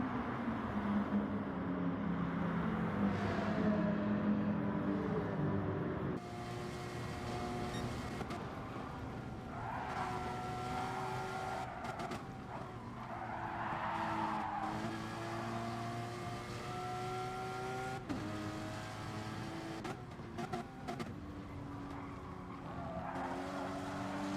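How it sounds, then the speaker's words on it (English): A Porsche race car at Monza roars past on the track, its engine note rising and falling through gear changes, loud and sustained, with another car's engine audible near the end. "Sound good, the Porsche. Not as good as the Ferrari, but it does sound good."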